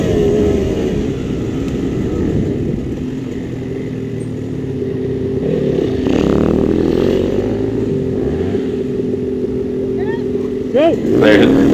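Dirt bike engine held at high speed in fifth gear during a hare scramble race: a loud, steady, close-up drone that swells slightly in the middle and ends with a few sharp revving surges.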